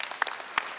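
A commencement crowd at a UCLA School of Nursing ceremony claps in unison as part of a UCLA chant, with a few sharp, close group claps spaced apart in under a second.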